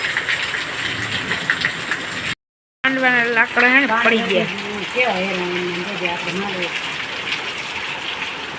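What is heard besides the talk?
heavy downpour rain in a village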